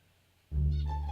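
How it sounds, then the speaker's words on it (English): A house cat lets out a single clear, fairly loud meow that starts abruptly after a moment of quiet and holds steady to the end. "And hello there, cat."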